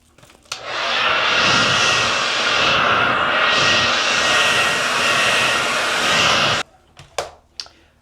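A hair dryer drying a glued quick weave track on a hair install runs loud and close in one continuous whooshing blast for about six seconds, then cuts off, leaving a few handling sounds.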